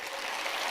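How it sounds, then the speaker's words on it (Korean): A crowd at a convention gathering applauds steadily and fairly softly for under a second, a dense even patter of clapping with no voices over it. "전혀 박수를 이게 예상하지 못했는데 생각보다 조금 작긴 한데"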